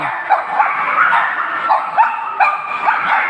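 Several dogs barking and yipping in quick, irregular bursts, moderately close, with whiny overtones between the barks.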